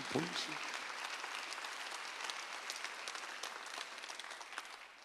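A congregation at a Sunday church service claps together, a bright, sustained burst of many hands that starts right after a brief voice and stays steady at moderate loudness for about five seconds.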